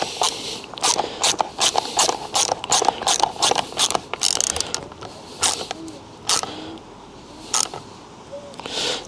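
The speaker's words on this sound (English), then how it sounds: "again with our Torx bit, making sure I've got the right size, yeah, we tighten that back down" A Torx bit in a ratchet tightens a bolt on an Alko brake while its friction pads are changed, with loud, uneven bursts of clicking ratchet strokes separated by short pauses.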